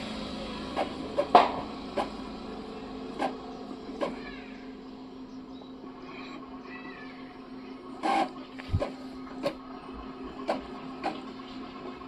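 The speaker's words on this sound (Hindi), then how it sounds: "अभी मैं इसमें कलर प्रिंट देता, एक कलर प्रिंट दे दिया मैंने इसको" An Epson L3250 inkjet printer prints a colour page with a steady mechanical hum. Repeated short knocks and clicks from the carriage sit over it, plus a few louder clunks, close by and with no voices.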